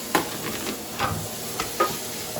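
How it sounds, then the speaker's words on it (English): Turkey sausage hitting a pan of browned onions, giving a steady close sizzle broken by a few sharp stirring scrapes, with no voices. "I'm gonna add our turkey sausage"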